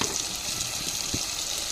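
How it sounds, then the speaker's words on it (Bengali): Water hits a pan of frying spices (turmeric, cumin, coriander, chili and garam masala with softened tomato), giving a steady, close hiss and sizzle with light bubbling. "ওপর দিয়ে একটু জল দিয়ে দেব।"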